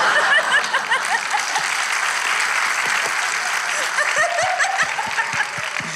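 A studio audience on a Turkish talk show applauds continuously, a dense, loud wash of clapping that runs throughout. Scattered chuckles and laughter mix in, and voices can be heard beneath it.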